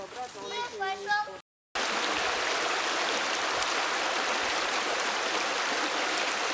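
Water poured over a campfire to extinguish it, a steady dense rushing and splashing that runs continuously after a brief pause, preceded by children and adults talking.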